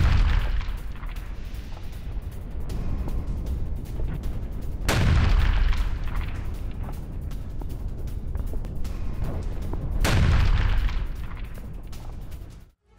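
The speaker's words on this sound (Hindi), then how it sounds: "ड्रोन धमाका कर यूक्रेनी टैंक को जला दिया गया" Distant heavy booms from a drone strike on a Ukrainian tank roll out over a constant rumbling wash of noise, two big blasts spaced several seconds apart amid crackling battlefield din.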